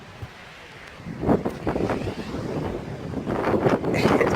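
Strong wind buffeting the microphone in rough gusts, building louder toward the end, with a faint watery wash beneath, outside a camper van in Dover.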